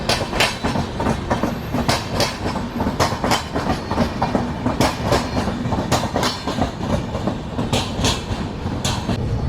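Prashanti Express passenger train rolling along the rails after departing Kotabommali station, a steady loud rumble with rhythmic clickety-clack of wheels over rail joints throughout, heard from on board.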